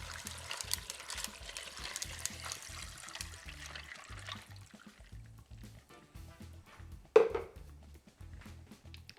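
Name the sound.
water poured into ice bath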